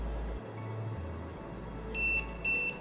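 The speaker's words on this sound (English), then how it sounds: "And now I'm going to turn on the module and you'll be hearing a continuous beep sound." A Wi-Fi smart switch module gives short electronic beeps, two distinct high pitched pulses near the end over faint background hum, quiet and without talk.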